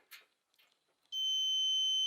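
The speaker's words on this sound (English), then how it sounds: "As you can see, it's beeping." After a few faint clicks and rustles, a multimeter's continuity beeper, testing a dryer part, sounds a loud, steady high-pitched tone that holds without a break.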